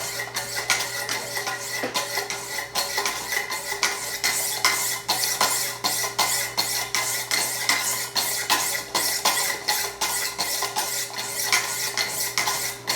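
A kitchen knife that had gone dull is drawn over the 600-grit stones of a Wicked Edge sharpener, making repeated rhythmic scraping strokes, close and fairly loud, with no talking.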